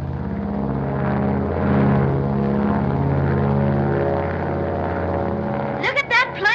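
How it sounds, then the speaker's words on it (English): A propeller plane under radio control climbing and banking in a 1937 film, a steady loud droning engine with shifting pitch, with a brief voice near the end. "Look at that plane climb."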